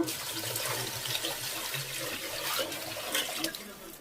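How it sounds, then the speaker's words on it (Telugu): Water splashes and pours into a pot in a quiet, uneven stream, with faint clinks and rustles nearby. "ఇప్పుడు వాటర్ కూడా వేసేసుకుంటున్నా."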